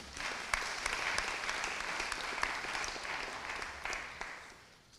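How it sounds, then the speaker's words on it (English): An audience claps at a tribute event honoring Mary Burghardt Du Bois, producing a steady patter of many hands at moderate distance that fades out toward the end, with no voices over it. "Y'all could clap for that."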